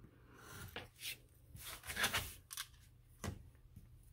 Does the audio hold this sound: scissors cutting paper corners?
yes